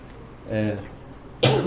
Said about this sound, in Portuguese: estou com essa tosse aqui